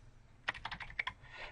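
Arrow keys on a computer keyboard are tapped in a quick cluster of close, crisp clicks, several strokes spaced irregularly over a quiet room background with no voices.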